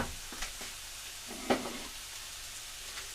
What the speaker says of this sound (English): The steak just goes straight into the pan.